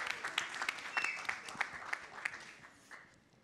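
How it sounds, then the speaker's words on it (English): Applause breaks out for actor Siddhant Chaturvedi at a campaign launch event, a fairly faint spatter of claps with sharp individual hits standing out, thinning and fading toward the end. "let's give a huge round of applause to Siddhant"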